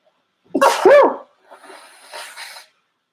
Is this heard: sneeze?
yes